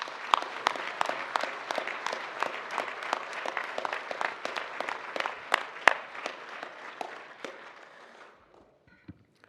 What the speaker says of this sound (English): So I think a good round of applause for her.